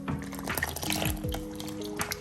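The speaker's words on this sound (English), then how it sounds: "And then add your buttermilk and vanilla." Buttermilk and vanilla poured into a mixing bowl for dairy-free waffle batter, a soft, faint liquid splash and trickle heard up close with a few small drips.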